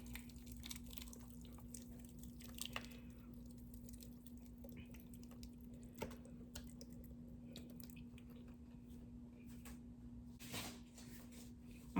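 Blended pepper sauce pours onto beef with soft, wet squishing and dripping sounds, faint and intermittent over a steady low hum, with no talking.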